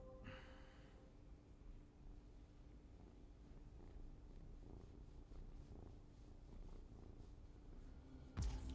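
A pet cat purrs close and soft in a steady, low rumbling rhythm of in-and-out breaths, continuing without pause until a sharp bump at the very end.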